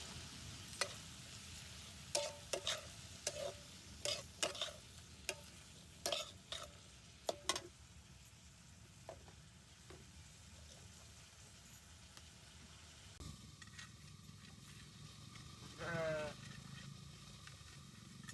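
Masala frying in oil in a simple village kitchen in rural Maharashtra. Faint sizzling runs under a string of sharp stirring clicks and scrapes, then quietens, with a brief animal bleat near the end.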